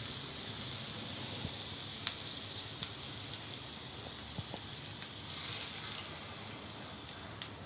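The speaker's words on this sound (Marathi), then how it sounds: "मिरची तळी गेली व्यवस्थित की आपण ही फोडणी जी आहे ह्या कोशिंबीरीवर घालणार आहोत" Green chilies fry in hot tempering oil for a cabbage salad, giving a steady, close sizzle with small crackles and pops scattered through it, unbroken by talk.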